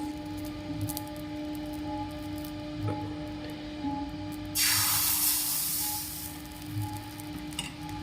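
Pitha batter is poured into a hot, dry wok and sets off a sudden loud sizzle that lasts about two seconds, then fades into quiet kitchen ambience; no one talks.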